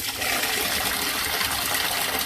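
Water gushes in a steady, loud, unbroken splash as it is poured out during house cleaning, lasting a couple of seconds with no voices.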